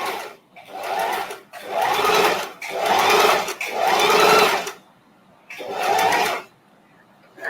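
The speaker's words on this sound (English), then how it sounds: "So I'm sewing." A sewing machine stitching small fabric scraps together, loud close bursts of rapid mechanical whirring in four runs separated by short pauses.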